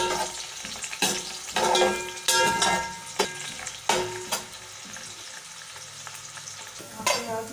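Onions fry in ghee in a pan for a matar biryani, a steady crackling sizzle broken by repeated louder bursts of stirring and scraping, close and loud with no talking.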